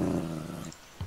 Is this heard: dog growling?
yes